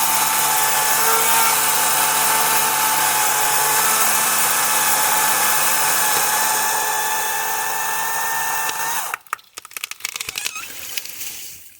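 A Kobalt 40V Max cordless chainsaw cutting cedar, a loud steady high-pitched whine for about nine seconds, then breaking into rough crackling and snapping as the cut finishes.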